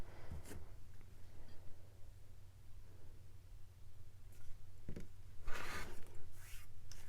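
Rotary cutter or scissors trimming a quilting fabric block on a cutting mat, a few soft scraping cuts with quiet gaps, close and faint over a low steady hum.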